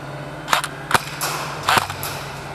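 An airsoft gun at an indoor CQB field is test-fired in a few quick, sharp pops, some in short double bursts, against a steady background hum.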